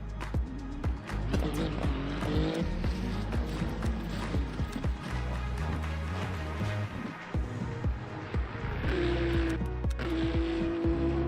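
Cars racing in a video game, a BMW and a Porsche, with engines droning and revving, a rising whine and an upshift, and short knocks over a low rumble.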